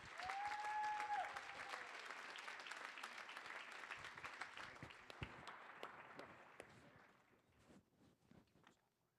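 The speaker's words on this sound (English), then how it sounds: "One more round of applause," Audience applause at an awards ceremony for a winning university team in the Tri-State competition, a dense broad wash of clapping that slowly thins and tapers into scattered individual claps toward the end.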